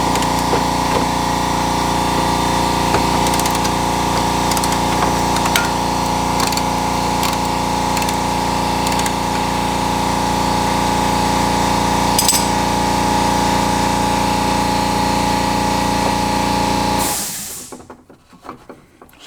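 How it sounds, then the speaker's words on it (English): A small air compressor runs close by with a steady, loud motor drone and faint rattles for about seventeen seconds, then shuts off and quickly winds down to near silence. "It's a little compressor."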